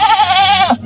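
A goat bleats once at a livestock market before the Eid sacrifice: a loud, close, wavering cry that lasts most of a second, then cuts off abruptly.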